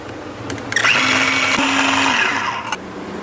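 An electric vegetable chopper whirs loudly for about two seconds, its motor spinning up steady then cutting off, finely mincing vegetables with no talking over it.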